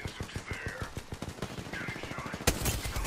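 Distant gunfire from a fight in a video game, a rapid rhythmic string of sharp shots rattling steadily, with a louder crack near the end and a faint voice in the background.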